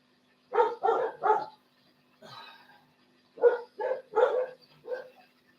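Dogs barking outside in short clustered bursts, three quick barks, a softer rougher yelp, then another run of four barks, moderately loud and alone.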